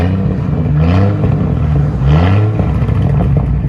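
A 2002 GMC Envoy with a V6 engine and straight-pipe exhaust revs loudly and up close, rising twice in quick throaty bursts over a rumbling idle, with no voices.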